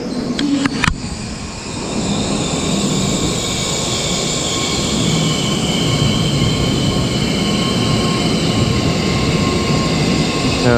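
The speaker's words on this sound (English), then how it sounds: "Here comes the Shinkansen." A Shinkansen high-speed train rushes into the station with a loud, sustained roar and steady whine of wheels on rails, close by and without speech.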